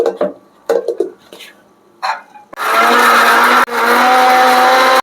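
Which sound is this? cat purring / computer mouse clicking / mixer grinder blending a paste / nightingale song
mixer grinder blending a paste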